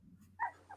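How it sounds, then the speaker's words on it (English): Faint, brief puppy yips from somewhere in the background, two short bursts over a low steady hum, distant and quiet. "I hear puppies."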